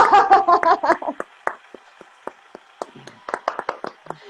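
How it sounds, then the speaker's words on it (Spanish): A few people on a Spanish talk show about law clap briefly, with voices speaking at the start, followed by scattered, sparse handclaps trailing off close to the microphone. "Aplauso de rigor, Great Juris."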